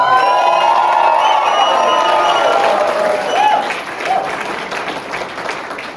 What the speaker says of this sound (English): I want to give a big round of applause to Emma